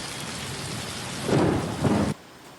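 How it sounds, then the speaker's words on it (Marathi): Heavy rain pours down steadily over Nagpur city, a dense broadband roar that swells louder for a moment before cutting off abruptly near the end. "तर नागपूर शहरातही मुसळधार पाऊस बरसतोय"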